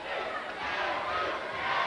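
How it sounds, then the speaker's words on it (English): A wrestling crowd at a mid-1990s WCW Saturday Night show chanting "nasty" in unison, a loud, sustained roar of many voices in an arena, with no talk over it. "The chant of nasty from this crowd on hand."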